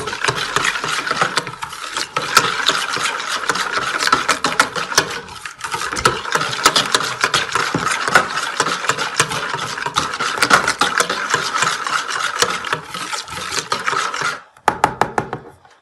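Steady scraping stirring of an overnight pre-ferment yeast mixture for Ramadan pide, a spoon working rhythmically against the bowl for a long stretch, close and continuous, then stopping abruptly near the end with a few last taps.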